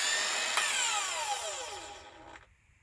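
Designed drill effect for Venture in the game Overwatch, blending synth layers with power tool recordings: a loud, dense whirring whine with a descending pitch sweep, a sharp click near the start and an abrupt cutoff before a faint tail.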